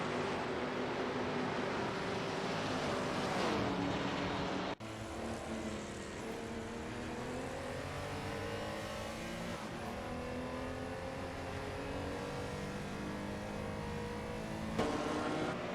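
Race cars lap a track in the video game Le Mans Legacy, their engines droning and revving continuously with shifting pitch, interrupted by an abrupt cut partway before the roar carries on steadily.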